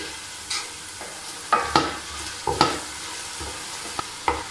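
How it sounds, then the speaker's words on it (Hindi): Green chilies fry in a pan for degi chana pulao with a low, soft sizzle, broken every second or so by the scrape of a spoon stirring. "सब्ज़ मिर्च का कच्चापन दूर होने तक मैं इसे पकाऊंगी"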